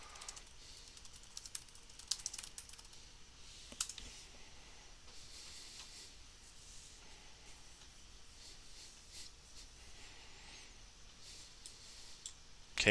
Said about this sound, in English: Remember, I'm just typing something now.